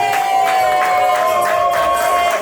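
Guests at a civil wedding ceremony clap and cheer together in a steady, dense wash of applause that fills the room from start to finish, with a sustained voice tone running beneath it.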